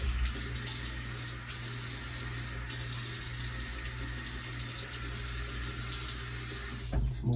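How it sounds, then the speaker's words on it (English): Tap water runs steadily into a sink while a face is rinsed during a wet shave, a continuous close splashing hiss with a brief clatter near the end. "Let me rinse my face for the second pass."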